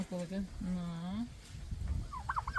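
Turkeys gobble and call in a quick run of warbling, rising notes, fairly close, with other birds chattering and clucking toward the end.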